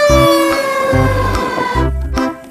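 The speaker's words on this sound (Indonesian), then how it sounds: "ada mobil pemadam kebakaran." A fire truck siren blares loud, close tones in short repeating pulses over a deep droning base.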